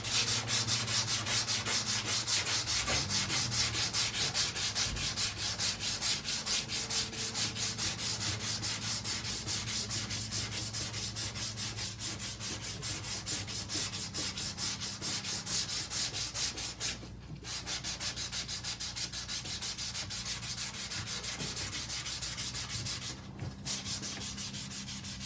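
Hand sanding a 1968 Pontiac Firebird body panel with a sanding block, a close, steady rasping rub in continuous rhythmic strokes, briefly pausing twice near the end.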